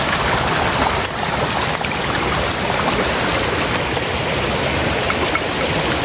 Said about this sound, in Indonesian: Kita jalan di antara bebatuan dan air mengalir.